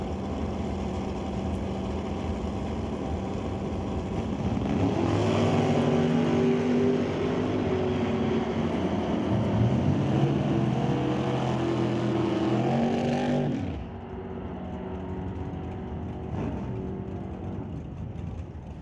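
Drag racing cars at an NHRA Northwest National Open Series Super Pro event warm up their engines, a steady loud rumble swelling into revving surges in the middle before dropping to a lower idling drone.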